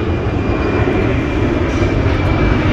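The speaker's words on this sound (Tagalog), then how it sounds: "oy may eroplano me" An airplane flies overhead near a large hospital in Taiwan, its engine making a loud, steady broadband roar that holds without letup.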